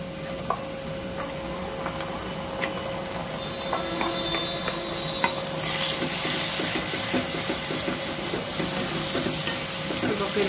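Ground masala frying with onions in a pan for mutton curry, a steady dense sizzle with occasional stirring clicks, which grows slightly louder and brighter partway through.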